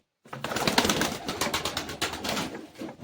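Young pigeons cooing steadily and shuffling about nearby, a dense, continuous murmur of soft coos with rustling, loud and close throughout.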